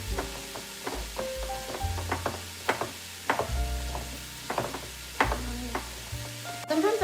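Food sizzling in about five tablespoons of olive oil while bolognese cooks, a steady close crackle under repeated stirring and scraping knocks, with a few clinks of a utensil against the pan.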